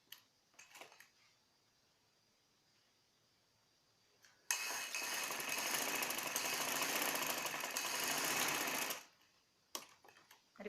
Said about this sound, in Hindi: आप चाहें तो इसके ऊपर सिलाई लगा लें।